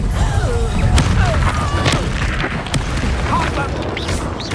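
A Reductor spell goes off in Hogwarts Legacy combat, a loud blast under a busy mix of impacts, crashes and whooshing effects that continues for several seconds.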